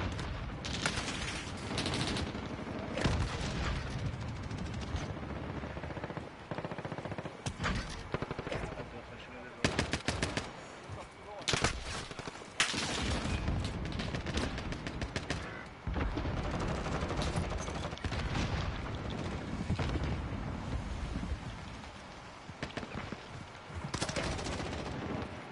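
Dense gunfire in the video game Call of Duty Modern Warfare, with rapid machine-gun bursts and single shots going on and off at loud volume across the whole stretch, broken by brief lulls.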